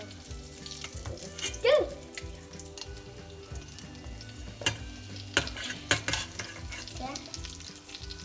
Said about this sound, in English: Let's fry it on the other side.